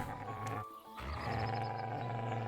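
Companion dog growling in Kingdom Come Deliverance 2, a low, rumbling snarl heard close up that breaks off briefly and then resumes as a steady, throaty growl, with no speech over it.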